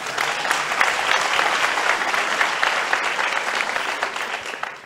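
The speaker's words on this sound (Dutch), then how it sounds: "Ja, applaus." A conference crowd applauds at the start of a keynote, a loud sustained roar of many clapping hands that stays even throughout and tapers slightly at the end.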